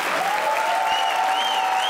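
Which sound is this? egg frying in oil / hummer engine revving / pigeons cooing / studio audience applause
studio audience applause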